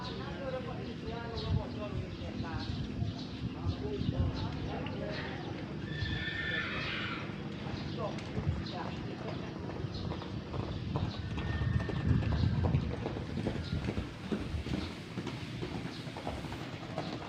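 Racehorses train at a traditional Gayo horse-racing event, with hooves clip-clopping steadily and horses neighing now and then, while people talk throughout.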